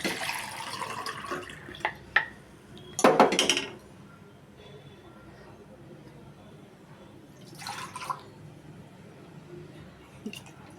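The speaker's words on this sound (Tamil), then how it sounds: "மூணு கிளாஸ் தண்ணி ஊற்றியாச்சு." Glasses of water poured into a cooking pot for biryani, a few splashing pours and clinks of glass against metal, one loud burst early and a quieter one later, with softer dripping in between.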